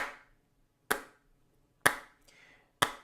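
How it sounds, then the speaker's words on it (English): Hands clapping the big beats of a rhythm in a sight-singing lesson: four crisp, isolated claps about a second apart, close and clear in an otherwise quiet room. "And if we clap the big beats"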